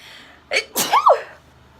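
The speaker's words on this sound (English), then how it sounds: "I have to sneeze." A single person's sneeze in a quiet indoor room, a sharp inhaled buildup followed by one loud explosive burst that trails off, close to the microphone.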